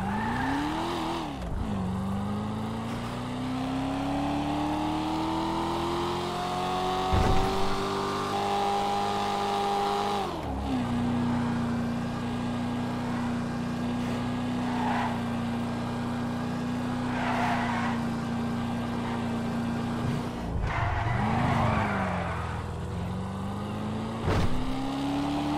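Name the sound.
Corvette sports car driving, revving and skidding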